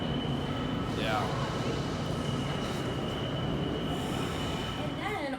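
Montreal subway train running, with a steady loud rumble of wheels on track and rising metallic squeals of the wheels, a sustained tone running throughout, and voices talking faintly beneath the noise.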